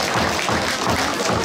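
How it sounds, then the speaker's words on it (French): Applause from an audience for the children at a superhero costume contest prize-giving: steady, dense clapping that holds at an even level throughout, with no speech over it. "vous pouvez vous applaudir et être très fiers de vous"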